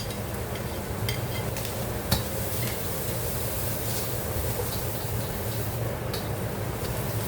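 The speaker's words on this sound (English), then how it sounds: "we'll add our carrots and green chilies" Carrots and green chilies stir-fry in oil for homestyle fried rice with sausage, giving a steady, even sizzle throughout with a few light utensil clicks and one sharper knock.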